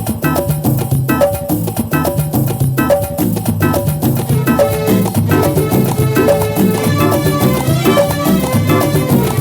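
Keyboard chords ring out over a steady programmed beat, with layered sustained harmonies changing every few seconds, loud and continuous.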